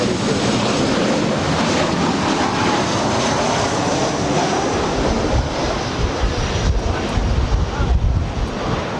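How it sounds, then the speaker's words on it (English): A Southwest Airlines jet landing at LAX, arriving from Houston, heard as a loud, steady broadband roar of jet engines and wind rushing throughout, swelling slightly toward the end with no voices. "That was Southwest Airlines Flight 1220 coming in from Houston"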